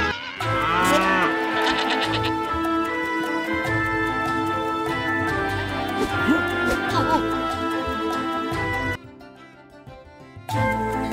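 Cattle moo repeatedly over a music backing in a children's Bible story cartoon, the lowing calls long and drawn out, with a short quieter stretch near the end.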